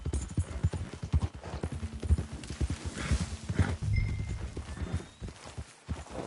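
Horse hooves clip-clop in a steady galloping rhythm in Red Dead Redemption 2, with a whinny partway through and a rider's brief call near the end, close and clear over a faint outdoor ambience.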